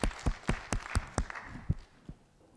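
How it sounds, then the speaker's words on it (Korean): A church congregation claps in thanks in an evenly paced rhythm, about ten sharp claps fading toward the end with no talking. "받으신 주님께 감사의 박수 드립니다"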